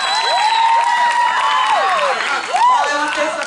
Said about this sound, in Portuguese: queremos agradecer ao público, esse público lindo. Palmas pra vocês.